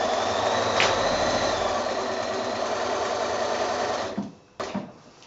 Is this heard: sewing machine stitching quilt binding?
yes